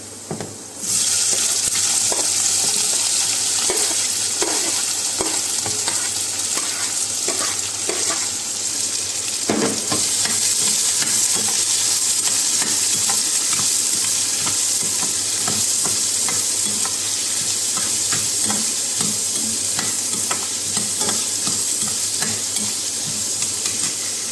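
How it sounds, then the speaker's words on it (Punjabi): Steady oil sizzle with intermittent stirring scrapes as onions fry in a tempering oil in a pan for besan bhurji, close and continuous throughout with no voices. "ਹੁਣ ਆਪਾਂ ਪਿਆਜ਼ ਪਾ ਦੇਣੇ ਨੇ"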